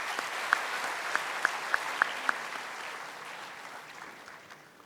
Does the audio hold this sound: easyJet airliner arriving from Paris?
no